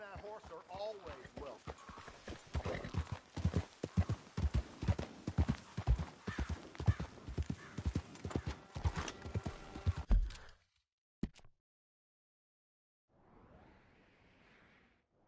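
Horse hooves in Red Dead Redemption 2 keep up a steady, close clip-clop for about ten seconds while voices talk over them, then stop abruptly; a faint soft rustle follows after a silence.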